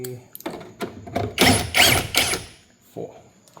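A ratchet removes bumper bolts on a Volkswagen Passat CC, with bursts of close clicking and rattling that vary in length and are separated by short pauses and handling noises.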